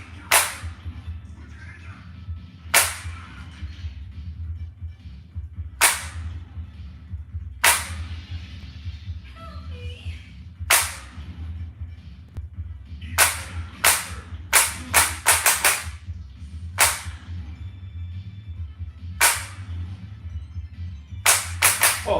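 Light gun shots in a retro shooting game crack out as sharp, isolated pops spaced a few seconds apart, then bunch into quicker volleys, each a bright snap over a quiet background hum.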